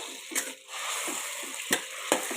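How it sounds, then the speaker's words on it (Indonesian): Food being stir-fried in a pan on a home stove, a steady sizzle broken by several sharp scraping clinks of a utensil against the pan, close up. "Kita tumis."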